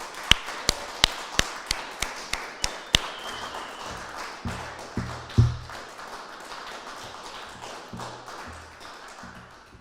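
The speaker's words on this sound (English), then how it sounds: "Let's have a huge round of applause for all of our graduate teaching assistants." Sharp, evenly spaced claps for graduate teaching assistants at an honors convocation, about ten in a row, then fading into scattered softer taps and low thumps.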